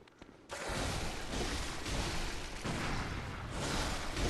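A loud gunshot from the Bloodborne video game opens a dense, sustained boom that rumbles on for several seconds with no talking over it.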